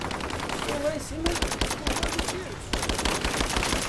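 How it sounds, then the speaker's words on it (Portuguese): Rapid bursts of automatic gunfire in the video game Rise of the Tomb Raider crackle loudly, with brief pauses between volleys and a voice murmuring beneath. "Tomando tiros."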